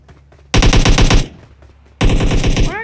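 Automatic gunfire in PUBG rattles in two loud rapid bursts, the first lasting under a second, then a short lull before a second burst starts.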